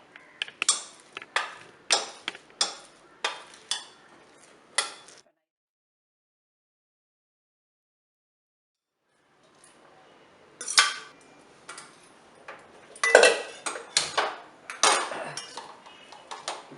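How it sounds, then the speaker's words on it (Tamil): A ladle mashes cooked rice in a pot for rice-milk payasam, giving rapid clinking and scraping strokes of metal against metal, close and fairly loud, then a silent pause before another busy run of clanks. "கொஞ்சம் கரண்டியை சூடாக இருக்கும்போதே நம்ம கரண்டியை போட்டு நல்லா மசிச்சுக்கலாம்"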